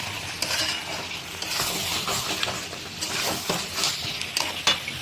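A spoon stirs mutton curry with potato in a pot after salt goes in, scraping and clinking against the metal in quick, uneven strokes over a low, continuous sizzle, close and fairly loud.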